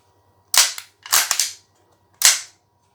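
Charging handle of an airsoft gun being worked: three sharp mechanical clacks, the middle one a quick double, crisp and close against a quiet background.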